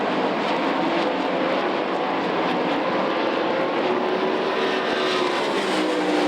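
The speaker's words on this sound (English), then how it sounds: "Bronson off the throttle in turns 1 and 2." 410 sprint cars roar around the dirt oval at Knoxville Raceway, a dense, continuous engine drone from a distance, with no clear speech over it.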